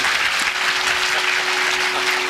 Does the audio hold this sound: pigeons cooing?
no